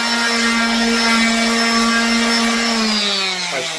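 A power drill whines steadily at a high, constant pitch, very close and loud, drilling into a wall while painting a bedroom, slowing slightly and dropping in pitch near the end.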